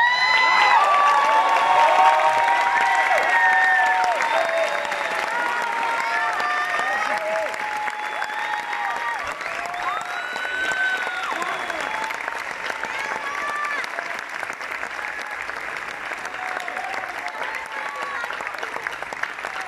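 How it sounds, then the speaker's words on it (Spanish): A theater audience applauds and cheers the cast of a large-scale musical, "Amor sin barreras", loud at first and then settling into sustained clapping with whoops and scattered shouting voices throughout. "den un paso adelante para que les demos un gran aplauso"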